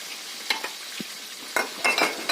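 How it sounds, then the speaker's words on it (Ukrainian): Food sizzling in a pan, with scattered scraping and stirring clinks over a soft steady crackle. "І там на фоні готується обід, то трохи шкварчить"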